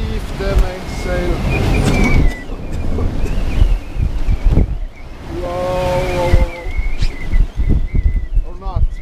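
Strong 25-knot wind buffets a sailboat crossing the North Sea in winter, loud roaring gusts against the microphone mixed with rushing water, while a voice talks and exclaims intermittently.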